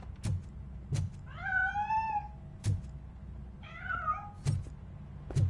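In the game RoboCop: Rogue City, a cat escaping from a piano meows twice in long, rising-and-falling cries, while heavy thuds and footsteps land regularly around it.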